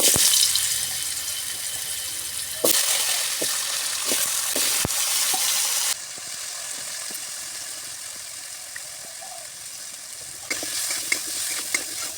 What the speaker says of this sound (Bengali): আলুগুলো আমি ভেজে নিয়েছি লাল লাল করে।